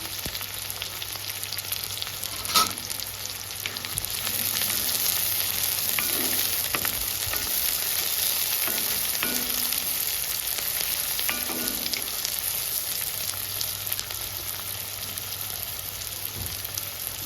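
Onions frying in hot oil for a Telugu-style chicken fry, a continuous close hiss and crackle with occasional stirring clinks, with no talk over it.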